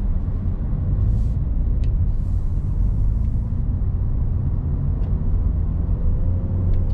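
Inside a 2019 Toyota Yaris 1.5G driving over bad, rough roads, a steady low road rumble and tyre noise persist throughout, with occasional faint knocks from the suspension.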